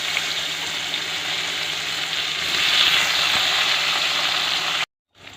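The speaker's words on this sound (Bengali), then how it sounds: "যেই তেলটা মাছ ভাজার তেলেই আমি এখন পেঁয়াজ দিয়ে দেবো" Chopped onions sizzle in hot oil left over from frying pomfret fish, a steady dense crackle that swells slightly midway before cutting off abruptly near the end.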